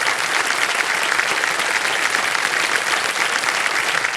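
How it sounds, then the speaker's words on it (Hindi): Studio audience at the KBC quiz show breaks into loud, dense applause that stays steady and full throughout with no talk over it. "तालियां बज जाए इनके लिए।"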